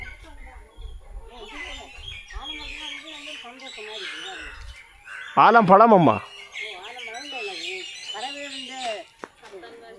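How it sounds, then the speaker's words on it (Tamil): Many birds calling from the branches of a village banyan tree, a busy chatter of squawks and chirps running throughout, with one loud harsh call standing out midway while people talk nearby. "பார்த்தீங்களா எவ்வளோ பறவைகள் மேலே இருக்குதுண்டு."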